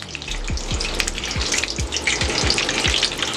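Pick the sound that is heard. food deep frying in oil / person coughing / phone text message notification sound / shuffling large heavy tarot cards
food deep frying in oil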